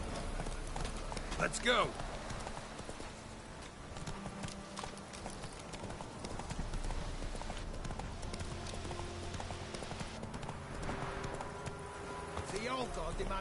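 Horse hoofbeats from The Witcher 3 video game clop along steadily at a gallop, a continuous rhythmic drumming throughout, with a voice speaking briefly near the start and game ambience underneath.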